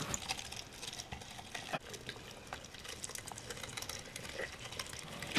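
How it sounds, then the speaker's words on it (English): An electric meat grinder working chuck roast through a coarse grinding plate, giving a steady whirring, squishing churn with small clicks throughout, fairly close and with no talking. "Just grind it up."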